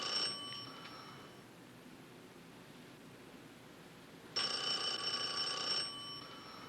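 A telephone rings in an office, two bursts of bright electronic trilling at the start and again near the end, with a quiet hiss between them.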